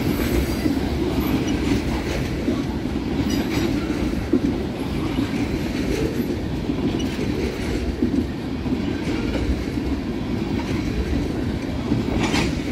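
A long freight train rolls steadily past close by, its tank cars carrying hydrocarbon liquids such as diesel fuel and liquefied petroleum, with continuous rumbling and faint wheel clatter and occasional squeal throughout.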